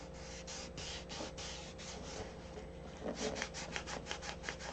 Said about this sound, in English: make sure you keep your sandpaper nice and wet